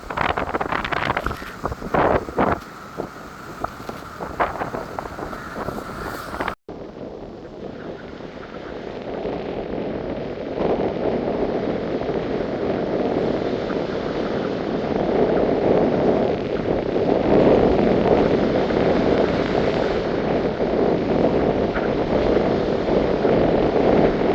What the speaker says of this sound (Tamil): பாருங்க எப்படி காற்று வீசி கொண்டிருக்கீங்க.